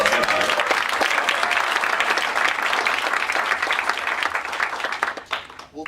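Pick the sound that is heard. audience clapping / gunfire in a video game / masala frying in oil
audience clapping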